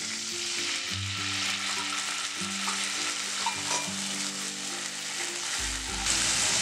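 A steady sizzle of spices tempering in hot oil for dhokla, close and continuous, with occasional stirring and no voices.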